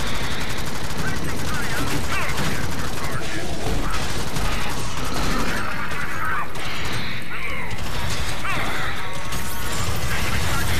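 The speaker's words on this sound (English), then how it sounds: "Who keeps shooting me?" Gunfire in the video game Alien Swarm comes as loud, dense, rapid bursts of automatic shooting that go on without a break, layered with mechanical clatter, while players talk over the fighting.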